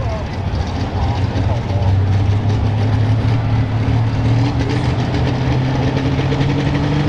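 A pro stock pulling tractor's engine drones loudly and steadily at a tractor pull in Monroe, Wisconsin, with a rising tone partway through, while an announcer's voice carries over it.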